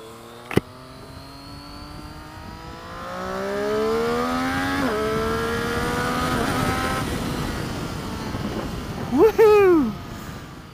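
A Triumph Street Triple 765 RS motorcycle engine revs up through rising gears on a test ride, building to a sustained loud whine before a sharp final rev, with wind rush throughout.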